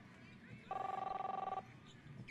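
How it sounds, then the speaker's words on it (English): A telephone in the video game Captain Spirit rings with one short, fast-trilling electronic bell burst, fairly faint, with quiet background talk around it. "You hear the phone ringing off the hook?"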